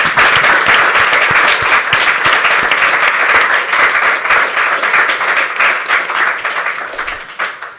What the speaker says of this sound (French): On peut les applaudir, tout le monde.